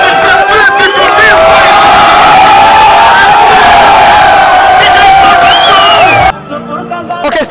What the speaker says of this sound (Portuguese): uma e forte salva de palmas para o Atlético de